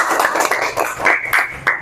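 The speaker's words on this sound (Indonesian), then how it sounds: "Oke, tepuk tangan. Kita beri aplaus" High-school classroom students clap briefly in a short, uneven burst of close, sharp hand claps.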